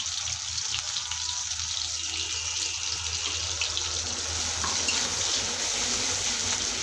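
Sliced onion and green chili sizzle in hot oil for a Bengali tiger prawn curry, a steady close hiss and crackle that continues unbroken with no talking.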